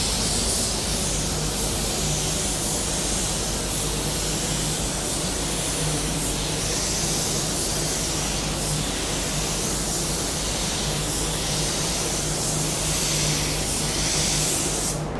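A spray gun lays a first coat of automotive paint onto a car panel in a steady, loud, continuous hiss that holds unbroken throughout, with no voices.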